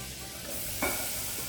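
Chopped onion sizzles in melted butter in a pot, with a steady loud frying hiss throughout and a brief flare of stirring partway through.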